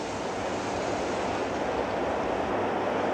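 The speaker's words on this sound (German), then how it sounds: "Die 16 Gebläse der Maschine liefern Wind mit Stärke 10." Sixteen blowers of a wind machine drive a strong crosswind at a 1967 Volkswagen 1500 Beetle during a test, a steady broad roaring rush that is loud and unbroken throughout.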